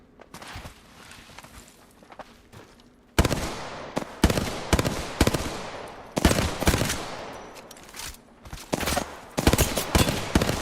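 Rapid gunfire in a first-person shooter game, starting with lighter scattered shots and then heavy, loud automatic bursts and single cracks firing in quick clusters up close, with no talking.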